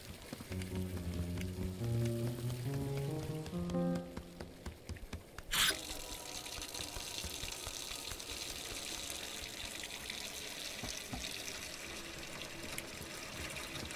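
Liquid streams out of a barrel in Untitled Goose Game with a steady watery running and dripping, like a tap filling, after a short melodic passage of plucked game music at the start.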